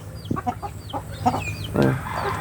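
Hens cluck in short bursts close by, with a louder squawking cluck near the end over steady low background noise.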